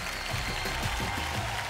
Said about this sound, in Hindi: अभय सिन्हा जी के लिए जोरदार तालियां हो जाएं।